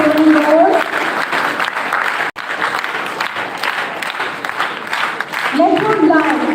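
Audience clapping at a school ceremony held at a Kendriya Vidyalaya, a continuous broad patter of many hands that holds steady and loud, with voices talking over it at the start and end.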